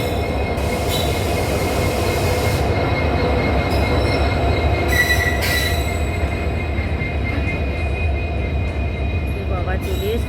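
A train pulls into Garhbeta station, its loud steady rumble carrying throughout with high screeching wheel squeals and metallic whines rising over it, close by, while people talk faintly in the background.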